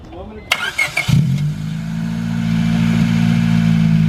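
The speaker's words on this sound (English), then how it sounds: "You gotta give it a rev." A modified Honda Civic with a new air intake cranks briefly and catches, then settles into a steady, close engine idle that slowly swells in loudness after a few short knocks and handling noises.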